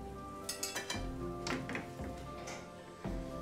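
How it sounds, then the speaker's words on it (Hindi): Ground coriander being roasted in a pan over medium-low flame, with repeated metallic clinks and scrapes of a spoon against the pan at an uneven rhythm under a faint background hum. "इसको मीडियम टू लो फ्लेम पे हम इसको भूनेंगे।"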